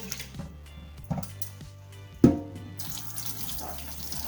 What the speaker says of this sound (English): As you repeat washing rice, you can see the water get clearer.